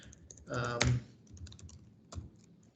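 A few keystrokes tap on a computer keyboard as a name is typed, a short quiet flurry of clicks close by, with a voice speaking around them.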